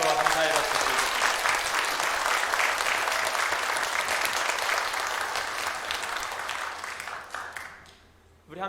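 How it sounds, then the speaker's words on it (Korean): A church congregation applauds its choir after a Christmas service performance, with loud, sustained clapping over several seconds that fades out near the end. "그 귀한 찬양으로 또 하나님 영광 돌리신 우리 성가대 다시 한번 심장 격려와 감사의 박수 드립니다"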